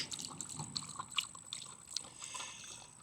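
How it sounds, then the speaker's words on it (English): Water pours and trickles for a dog at a park, a thin splashing flow with small drips, quiet and close, with no voices. "Let's get some water going, man."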